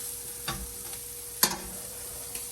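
Jimmy Dean sausage browning in a pan for biscuits and gravy, a soft constant sizzle with a few light clicks of a utensil against the pan, one sharper tap midway, no talking.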